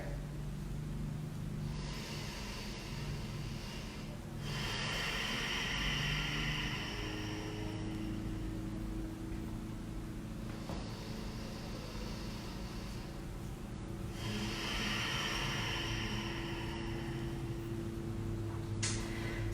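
Slow yoga breathing with an open-mouthed ha-like quality: several long, breathy exhales rise and fall in a steady rhythm over a constant background hum, fairly close and soft.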